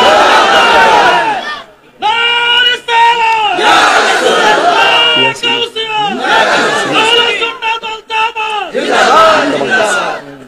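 A large crowd at an open-air religious sermon gathering in Comilla shouts the takbir in loud, repeated collective chants with short pauses between them, close and powerful.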